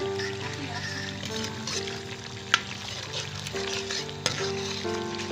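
Masala sizzles and is stirred in a pan for a street-style mutton liver (kaleji) fry, a continuous frying crackle with occasional spoon clinks while someone talks.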